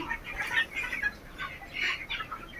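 Hens and chicks on a poultry farm clucking and peeping close by, a busy run of short chirpy calls rising and falling with no talking.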